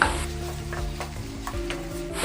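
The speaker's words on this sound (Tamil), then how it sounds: "தக்காளியை ஒரு ரெண்டு நிமிஷத்துக்கு நல்லா வதக்கி" Tomatoes sauté in a hot pan for a traditional village-style tamarind curry masala, with a constant sizzle and the repeated scrape and tap of a spatula stirring them.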